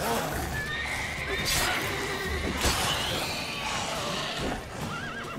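A horse whinnies loudly over a busy soundscape of rumbling, clashing effects from The Witcher 3: Wild Hunt, with hoofbeats and a voice underneath.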